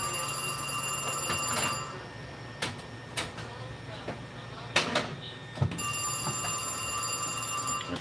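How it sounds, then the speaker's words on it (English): An old-fashioned bell telephone rings in a home kitchen with brief ringing bursts spread across the clip over steady background hum and kitchen noise. "My old school phone is ringing."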